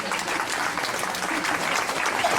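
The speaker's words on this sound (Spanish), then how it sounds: "Un aplauso para Antonio." An audience at a popular tribute event honoring Benito Pérez Galdós applauds a speaker, continuous loud, dense clapping filling the whole moment.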